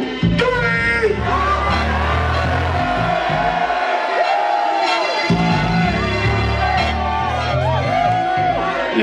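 A live concert crowd at a keynote show screams and shouts together on cue, a loud, dense wall of yelling voices that swells and sustains for several seconds.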